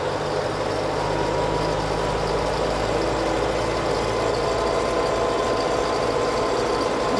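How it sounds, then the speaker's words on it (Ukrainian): A new Scout TE504C tractor engine runs steadily at idle, a loud, continuous low rumble close by with no talking. "Звук зовсім хорошого трактора."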